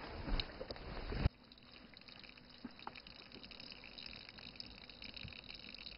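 Small trickling mountain stream at the source of China's third-longest river, a steady soft wash of running water heard alone, fairly quiet and continuous, with a louder splashing burst at the very start.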